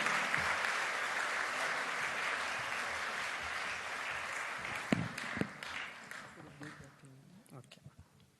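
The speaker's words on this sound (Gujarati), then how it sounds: "જોરદાર તાળીઓના ગડગડાટથી અનંત રાઠોડનું સ્વાગત કરીએ." Sustained audience applause welcoming a poet at a Ram Katha gathering in Abu Dhabi, a dense broadband clapping wash that holds steadily, then thins and fades over the final seconds.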